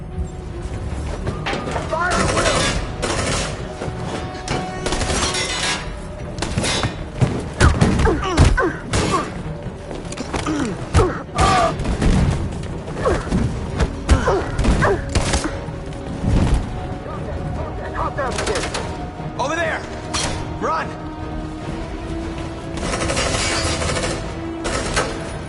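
Gunfire and impacts in the Detroit: Become Human video game, a dense, continuous barrage of shots, thuds and booms with music and shouting voices mixed in.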